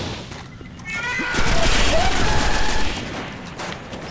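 Sniper rifle fire in the shooter game Destiny, a loud burst of gunfire that rises and holds for about a second and a half before easing, set among steady game noise, with a voice speaking over it.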